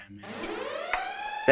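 A siren sound effect played during a live stock market stream, a rising electronic wail that climbs and holds, fairly faint, with brief clicks and a voice breaking in at the end.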